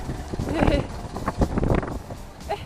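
Gusty wind buffets the microphone in low rumbling bursts in cold, wet weather while people talk nearby.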